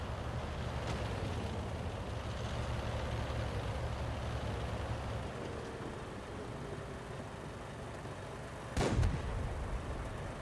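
A tank cannon fires once in the video game World of Tanks, a single sharp, booming blast near the end that cuts through a steady engine rumble and distant battle noise.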